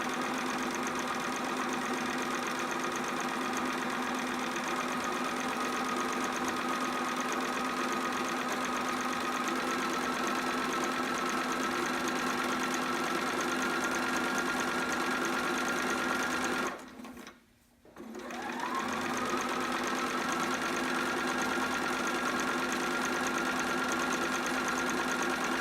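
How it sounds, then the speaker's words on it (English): A sewing machine runs steadily while finishing the other edge of a sitter romper, a continuous close mechanical hum broken by one brief pause near the end before it starts up again. "I'm going to keep sewing to finish up that little other edge"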